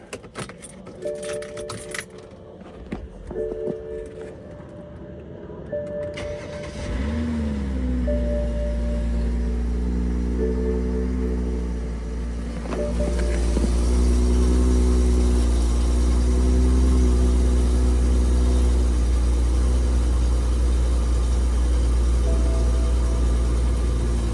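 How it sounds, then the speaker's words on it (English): Keys jangle briefly, then a BMW X5's N55 engine cranks and fires up from cold, settling into a loud, steady idle that continues to the end. "Give you guys a cold start on this N55."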